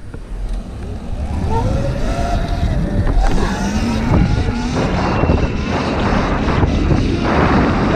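A motorcycle fitted with a 54-tooth sprocket revs up during a wheelie, its engine note climbing and falling under heavy wind rush across the microphone.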